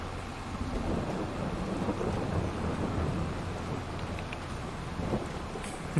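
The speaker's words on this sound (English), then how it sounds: "for how long is it supposed to rain?" Steady rain with rolling thunder from a storm in the Farming Simulator 22 video game on the France map, a dense continuous wash of rainfall with low rumbles throughout, no talk.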